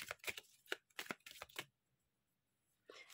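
A deck of playing cards is shuffled nearby in several quick riffling bursts, followed by a pause of near silence and then a short final rustle.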